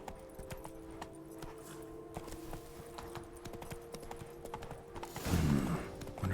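Roach, the horse in The Witcher 3, runs with quick, steady hoofbeats against a constant low background hum, and a louder burst of movement follows near the end.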